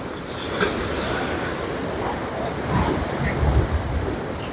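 Steady roar of ocean surf with waves washing in, swelling a little louder toward the end, no voices.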